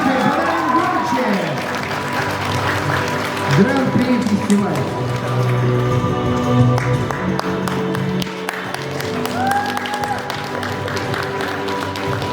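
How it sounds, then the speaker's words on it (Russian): Applause fills the closing ceremony of a short-film festival, loud and sustained clapping mixed with crowd noise, while an announcer speaks over it and music plays underneath. "Аплодисменты, подаем громче."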